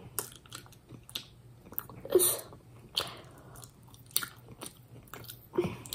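Close, faint mouth sounds of someone biting and chewing a sticky Sri Lankan musket sweet at tea time, with a few soft crunches and wet squishes spread across the moment and no talk.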